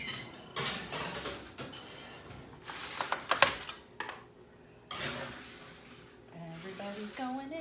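Cauliflower parm baking dishes clatter and scrape as they are slid into the oven, with several short bursts of clinking and knocking and a voice talking between them.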